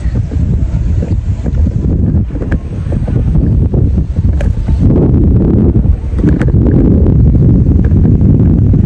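Strong wind buffets the microphone in loud, rumbling gusts that rise and fall throughout, outdoors in Bangkok, Thailand.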